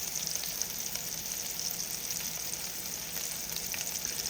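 A bone-in ribeye roast browning fat-cap down in a hot pan gives off a loud, dense, continuous sizzle and crackle, heard up close with no one talking.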